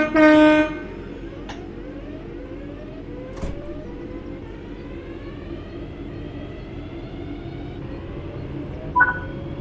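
A video game train hums and rumbles steadily as it starts to move, with a short horn blast at the start and a brief clank near the end.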